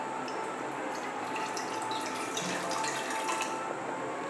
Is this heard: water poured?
yes